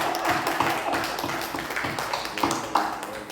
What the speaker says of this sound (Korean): 박수로 영광 할렐루야